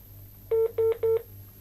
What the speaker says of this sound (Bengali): ফোন কলটি কেটে গেল